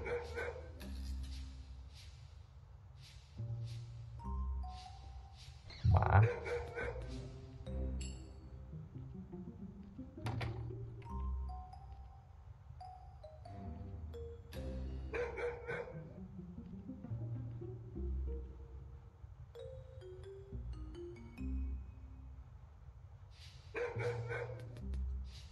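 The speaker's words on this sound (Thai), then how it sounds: "ยังเห่าอีกเหรอ" A dog in the video game Robbery Bob barks in repeated short bursts through a long stretch, mixed with game sound effects and occasional music-like tones, fairly quiet overall.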